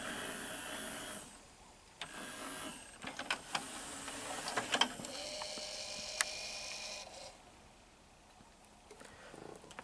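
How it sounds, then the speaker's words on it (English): A Kenwood DP-R4080 five-disc carousel CD changer's lens motor grinds and whirs in uneven bursts, with small clicks, rising to a louder buzzy stretch mid-way before settling back to a low mechanical hum. "that grinding noise that you hear is the lens motor moving"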